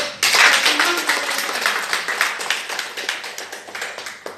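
Audience applause at a company gathering in Nepal, a burst of clapping that starts loud and gradually thins into scattered rhythmic claps from a modest crowd.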